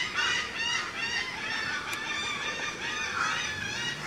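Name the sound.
flamingos honking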